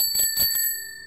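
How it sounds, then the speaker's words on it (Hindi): A bicycle bell rings in a quick burst of three bright metallic dings, close and clear, its tone lingering briefly before fading out. "पीछे साइकिल की घंटी सुनाई दी"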